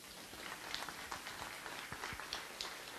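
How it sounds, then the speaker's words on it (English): Audience applause fills the room, steady dense clapping from a crowd heard at a moderate distance, continuous throughout without any voices over it. "they deserve a round of applause"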